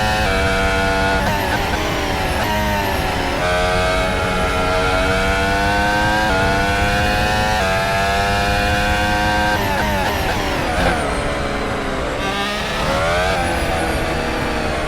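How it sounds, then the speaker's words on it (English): A championship-winning race car engine revs loud and close, a continuous high-pitched roar with rising and falling pitch sweeps as it accelerates and shifts through gears. "Oh my god, bro, this car sounds amazing."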